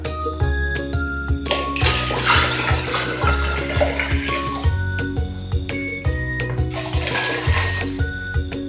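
Rice-washing water, stirred first, is poured into a container for homemade organic fertilizer, making a steady splashing gush under background music.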